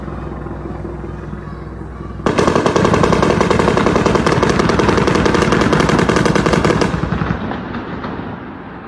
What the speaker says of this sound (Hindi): इजराइल के हेलीकॉप्टर फिलिस्तीन के टेंटों के ऊपर भी ओपन फायर करते हुए रिकॉर्ड हुए हैं।